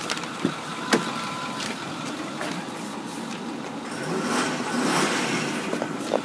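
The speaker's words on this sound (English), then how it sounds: "Continuing around to the inside, I'll let you listen to the engine." A 2008 Ford F-550 Regular Cab 2WD dual-rear-wheel truck engine runs at a steady idle, giving a continuous moderate rumble and hum with a few small clicks and no talk.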